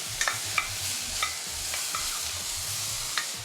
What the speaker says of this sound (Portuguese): Mais uma vez vamos aproveitar a gordura do borrego para caramelizar os legumes.